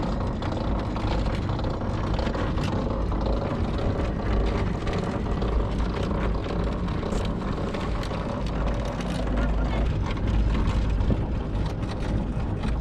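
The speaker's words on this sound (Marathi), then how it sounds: "आता आपण आलोय केबल रायडिंग मध्ये." Steady, dense rumble and whirr of a cable car gliding over Sai Heritage Village in Shirdi, with constant wind buffeting and mechanical drone, no voices standing out.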